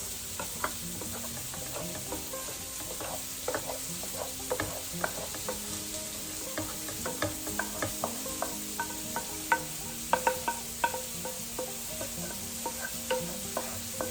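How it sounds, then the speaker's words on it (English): Wild mushrooms and roasted corn are stirred into wild rice over a soft, continuous sizzle, with light scattered clicks and scrapes of the utensil; no voices. "So now I'm going to just combine our wild mushrooms and roasted corn to the wild rice"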